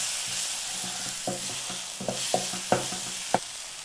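Turmeric being stirred into pav bhaji frying in a pan: a steady hiss of sizzling with a series of sharp spoon scrapes and knocks against the pan, no voices.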